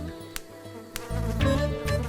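Mosquitoes whine at night just outside a house, a thin, high buzzing that hovers close to the ear, punctuated by a couple of sharp slaps before a denser, louder drone swells in.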